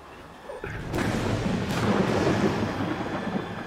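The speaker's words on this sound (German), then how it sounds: "Das ist der Sturm." Deep rolling storm thunder from the video game Gears 5, a loud sustained rumble that swells in and holds steady over several seconds with no voices over it.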